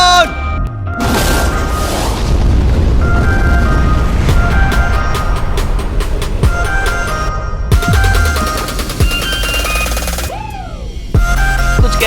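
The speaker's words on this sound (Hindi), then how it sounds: "लेकिन ये एक असली धमाका है" A huge explosion blows open a safe, heard as a loud, dense roaring blast with crackling debris that rumbles on for several seconds, then cracks and booms trailing off, with voices reacting over it.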